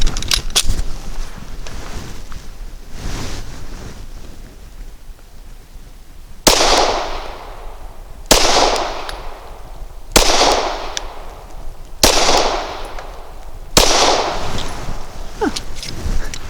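Glock 34 9mm pistol firing five sharp, loud gunshots, spaced roughly two seconds apart, each with a ringing outdoor decay, after a quieter stretch of background noise.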